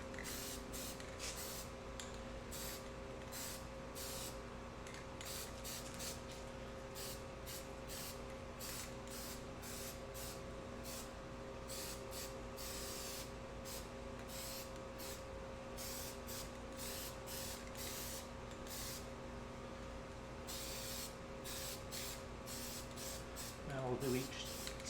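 Steel wheels are spray painted with semi-metallic silver paint, the aerosol hissing in rapid short bursts and longer sprays close by throughout, with a few brief pauses between passes.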